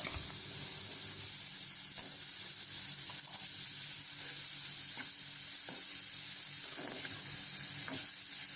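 A medium onion sizzling in hot cooking oil, a loud, steady frying hiss with occasional stirring scrapes, no voices.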